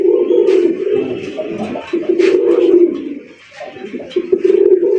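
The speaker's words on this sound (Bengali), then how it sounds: "ডাক দেখেন, সেরা লেভেলের ডাক।" A sky-blue Raj Golla pigeon coos close by in a steady, throaty rolling call that continues almost without a break, pausing only briefly before resuming.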